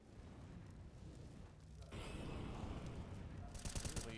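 Grenades bursting across the Dust 2 map in a CS:GO match, a continuous rumbling wash of distant explosions that swells louder partway through, with a sharper crackling burst near the end.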